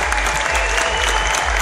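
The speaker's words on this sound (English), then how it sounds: "And please, give them a round of applause." Loud, dense applause from a conference audience, a sustained wash of many hands clapping with a low crowd rumble underneath.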